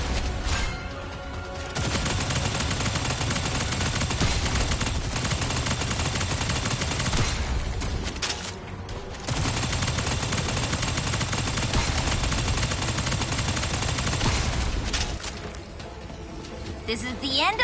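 Bursts of rapid automatic gunfire and explosive shots from a classic-mode brigade shooter game fill the mix, loud and dense with brief pauses between volleys while a player talks over it.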